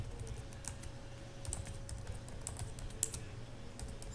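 Quiet, scattered clicks of typing on a computer keyboard under a low steady hum, faint and sparse rather than a fast run of keystrokes.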